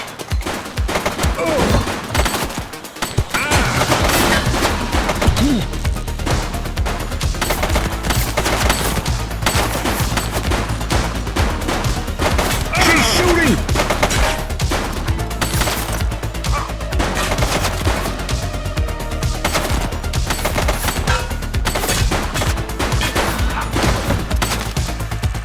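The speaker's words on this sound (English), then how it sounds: "Shots fired!" Sustained gunfire in the police game The Precinct: dense, loud, continuous bursts of shots with booming impacts over a low rumbling game backdrop, running throughout.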